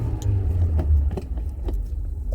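A car is parked: a low engine rumble holds steady with small clicks and knocks on top, heard close from inside the vehicle with no talking.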